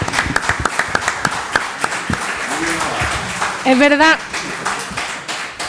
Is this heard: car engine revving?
no